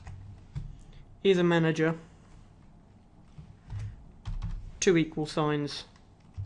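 Keystrokes on a computer keyboard as a formula is entered, a light run of clicks heard close and moderately loud, with someone talking over part of it.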